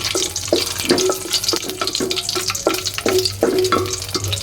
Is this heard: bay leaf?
yes